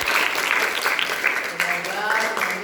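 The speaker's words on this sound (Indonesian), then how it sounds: "Tepuk tangan buat semuanya." Sixth-grade primary school students clap together in a classroom, giving a steady, dense round of applause that runs throughout with a few voices mixed in.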